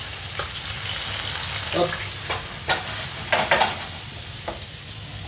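A pan of sole meunière cooking juices sizzles steadily, close and even, as liquid goes in to deglaze, with a few brief clinks and scrapes of a utensil and a short spoken word.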